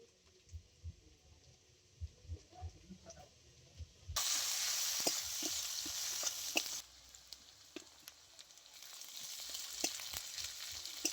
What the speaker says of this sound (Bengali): তেল খুব ভালো করে গরম করে নিয়েছি, এবারে দিয়ে দিচ্ছি আমি পরিমাণ মতো পেঁয়াজ কুচি